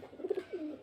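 A female pigeon gives a short, close coo of a few soft notes, alone and clear.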